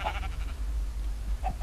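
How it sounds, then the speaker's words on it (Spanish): Sheep bleating in a video game, two short bleats, one at the start and another near the end, heard fairly close over a low background hum. "Está bien, están acá las ovejas, ¿no las ves?"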